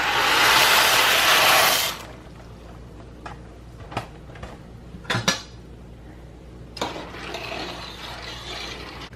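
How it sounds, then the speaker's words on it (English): Dry pasta, two pounds of it, is poured into a pot of boiling water, starting with a loud rattling pour that stops, followed by a few sharp clinks and splashes and a steady simmer. "So now I'm going to add in my pasta."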